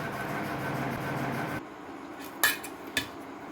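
Boiled potatoes for batata vada being mashed in a metal vessel: a steady rough scraping for about a second and a half, then two distinct metallic clinks against the pot.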